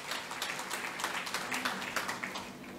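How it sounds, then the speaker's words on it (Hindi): Seminar audience applauding indoors, a steady patter of many hands clapping at moderate level for a few seconds. "अपने सबके लिए तालियां बजाएं।"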